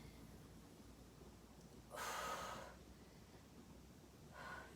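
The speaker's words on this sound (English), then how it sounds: "Breathe out when you push up." Heavy exhalations during push-up exercise: two breathy bursts, the first strong and close and the second fainter, over a quiet background.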